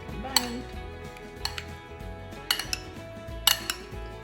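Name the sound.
mixing a tomato and cucumber salad in a bowl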